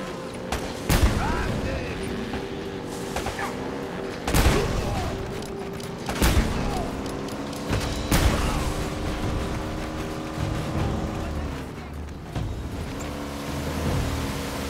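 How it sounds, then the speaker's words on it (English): Grenade launcher blasts during a vehicle chase in the Uncharted video game, several sharp booms spaced a second or two apart over a steady engine drone and rumbling motion. "So we're being chased, and I'm shooting grenades."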